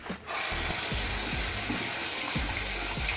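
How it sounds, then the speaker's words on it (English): A makeup beauty sponge rinsed under a running tap, water gushing steadily and loudly after a brief start, with soft squelching squeezes repeating throughout. "I just keep rinsing and squeezing out the liquid until it's nice and clean"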